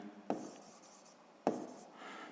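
Handwriting during a seventh-grade physics lesson on a graduated cylinder's scale: two crisp strokes, each a sharp tap followed by brief scratchy friction, close and quiet, with no talk.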